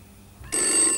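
A telephone for a long-distance call starts ringing halfway through, in an indoor scene from a Hong Kong TV drama. The ring is bright, loud and sustained after a quiet room, with no talking.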